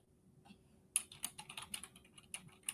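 Rapid, irregular typing on a computer keyboard, with crisp clicking keystrokes coming in quick bursts, fairly close and on its own without talk.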